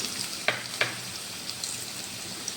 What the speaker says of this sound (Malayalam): എണ്ണ ചൂടായി കഴിഞ്ഞാൽ എണ്ണയിലേക്ക് ഇഞ്ചിയാണ് ഇടുന്നത്